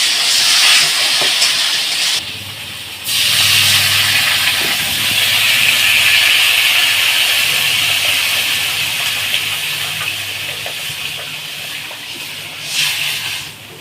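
Katla fish frying in oil in a pan for a Bengali fish curry gives a loud, steady, broad hiss of sizzling that runs continuously, with a brief dip partway through.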